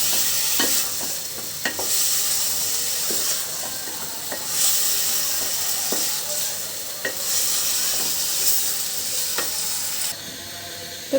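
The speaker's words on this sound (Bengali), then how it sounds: "দিয়ে দিচ্ছি এর ভিতরে ধুয়ে রাখা সবজিগুলো, ভালো করে মশলার সঙ্গে মাখিয়ে নিব" Washed vegetables stirred with spices in a hot pan, with a steady sizzle and frying hiss throughout and repeated scraping clacks of the spoon against the pan, close and continuous.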